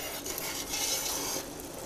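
A spoon scrapes and stirs jam in a pot over medium heat, producing a soft, continuous swishing rub over a light simmering hiss, heard up close with no talking.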